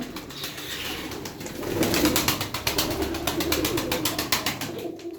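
Pigeons packed a dozen to a box coo softly in close, rhythmic pulses, swelling louder partway through.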